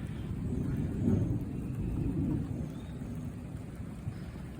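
A steady outdoor thunderstorm on a hot day: continuous heavy rain hiss with low, rolling thunder rumbling underneath, sustained and moderately loud throughout, no voices.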